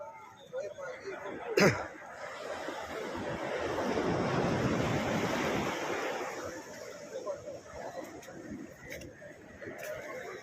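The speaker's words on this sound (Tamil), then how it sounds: "கடலோட சீற்றம் காரணமாக பிள்ளைச்சாவடி மீனவ கிராமம் கடல் தத்தளிக்க இருந்தது" Rough, agitated sea surf pounding the shore at the Pillaichavadi fishing village in Puducherry, a broad roaring wash that swells to a peak mid-clip and then recedes, with wind buffeting the microphone and a sharp knock near the start.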